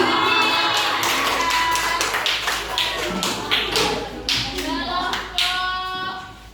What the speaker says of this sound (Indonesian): Tepuk tangan buat Dafa